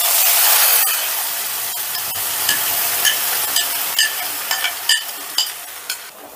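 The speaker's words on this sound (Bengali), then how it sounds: "ফোড়নটা একটু নাড়াচাড়া করে দিয়ে দিচ্ছি আমি বাটাটা" Tomato paste stirred into a hot tempering over low heat, a loud steady sizzle that fades a little as rhythmic spoon taps and scrapes on the pan grow more regular toward the end.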